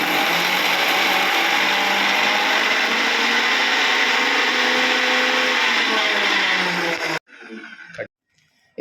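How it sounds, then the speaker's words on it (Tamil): A kitchen mixer grinder whirs loudly at full speed, grinding a masala with cumin for a peas kurma, a steady high-pitched motor whine for about seven seconds before cutting off, followed by brief rattling of the jar. "இப்போ வந்து நம்ம மசாலாவை நல்லா மிக்சியில் அரைச்சிக்கலாம்."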